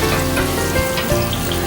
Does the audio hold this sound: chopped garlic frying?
yes